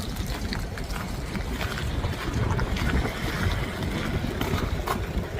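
Wind buffeting the microphone outdoors, a steady low rumbling roar with gusty swells, fairly quiet overall and with no talk.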